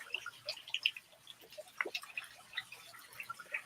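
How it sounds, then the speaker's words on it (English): Faint water sounds from a pool right beside a waterfall in the Philippines: scattered, irregular drips and small splashes over a quiet background, with no talking. "So you get hear the sounds of James' pool."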